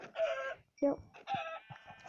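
Minecraft chickens cluck and squawk in short, choppy bursts, close and fairly loud, with a brief spoken word among them.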